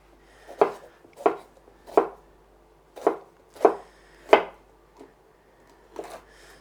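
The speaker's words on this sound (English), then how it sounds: "Turn 90 degrees and cut them into little cubes." A knife chopping food into small cubes on a board, seven or eight sharp, distinct knocks at an uneven pace, close and clear against a quiet kitchen with no talking.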